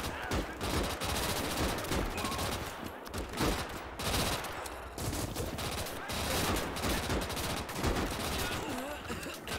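Machine gun fire rattles through a battle in Call to Arms - Gates of Hell: Ostfront, loud, dense bursts and overlapping shots that keep going without pause, mixed with other combat noise.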